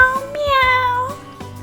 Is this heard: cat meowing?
yes